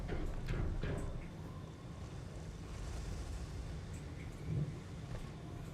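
A storm in the video game Astroneer blows as a low, rumbling gusty wind with scattered thuds and rattles, steady and moderately loud throughout, with no voices.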